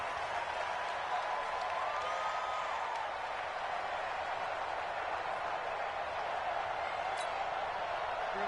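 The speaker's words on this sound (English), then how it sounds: "That's why you hear that clapping on the sidelines, right?" A crowd claps and applauds steadily on the sidelines in a football video game, a dense, even wash of clapping that holds for the whole stretch at moderate distance.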